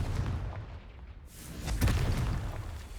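Confringo fire spell explosion in the video game Hogwarts Legacy: a faint whoosh builds into one booming blast with a rumbling low tail, heard alone.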